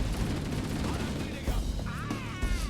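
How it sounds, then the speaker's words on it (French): Shotgun blasts and heavy gunfire sound in Halo: Combat Evolved amid dense, loud battle noise. Booming shots and explosions crowd together, with people talking and chirping in-game effects mixed in. "le pote il me tire dessus, il m'a mis une balle de pompe dans la gueule"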